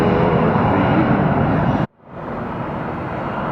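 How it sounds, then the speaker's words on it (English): A Boeing 717 airliner taking off from Atlanta Hartsfield airport roars loud and close with dense engine noise, then the sound drops off abruptly and returns as a quieter, steady rumble. "It's a Boeing 717 leaving Atlanta."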